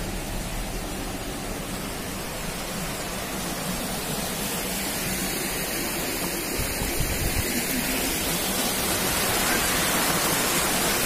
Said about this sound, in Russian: И сейчас покажу тут каскадный водопад.